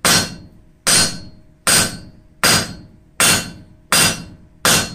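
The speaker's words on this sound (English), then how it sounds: "We will take another heat, and then we're going to start" Hammer blows shaping a chamfer on a glowing steel bar for a forged knot sculpture, seven sharp ringing strikes at a steady even pace, close and loud with short decays between.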